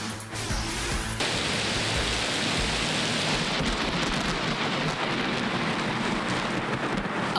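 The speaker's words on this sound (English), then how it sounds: "storms brought rolling thunder and flashes of lightning across southeast Texas" A southeast Texas thunderstorm pours heavy rain in a continuous hiss while deep thunder rolls underneath, loud and unbroken throughout.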